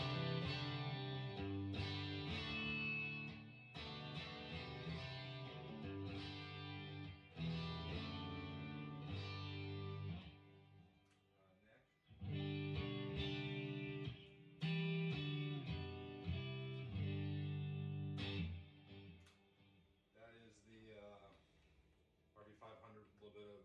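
Overdriven electric guitar plays chunky distorted chords in bursts with short pauses between phrases, loud and close.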